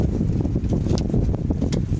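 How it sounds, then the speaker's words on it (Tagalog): Strong wind from an approaching sandstorm buffets the microphone in a constant low roar, with a few faint rustles on top. "lumalakas yung hangin"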